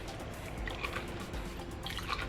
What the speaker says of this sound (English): with these 2 cups of water, I'm really just going to rinse this out